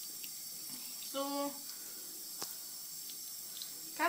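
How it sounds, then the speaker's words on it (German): A makeup brush rinsed under a running tap and squeezed out, with a steady hiss of flowing water and a brief squeaky burst partway through, and a word spoken quietly. "Dann könnt ihr ein bisschen mit dem Wasser durchgehen, immer wieder ein bisschen ausdrücken."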